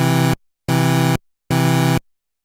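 Three bursts of a 16-voice synthesizer patch stacked from two parts, eight voices each, form a big, rich layered note. Each burst holds about half a second and is cut off by silence.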